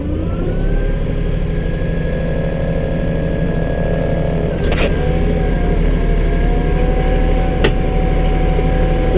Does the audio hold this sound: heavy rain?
no